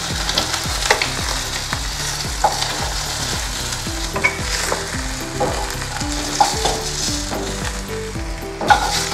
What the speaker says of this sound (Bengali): মাছগুলো আমার ভাজা হয়ে গেছে, বাদামি করে